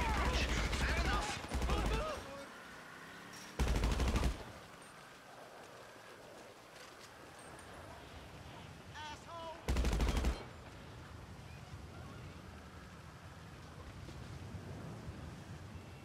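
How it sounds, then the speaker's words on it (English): Bursts of rapid gunfire in the video game GTA 5 erupt in short volleys amid rumbling, watery ambience, with a few scattered tonal effects between the bursts. "I deduce from the sound of gunfire that you have not gone for the stealthy approach"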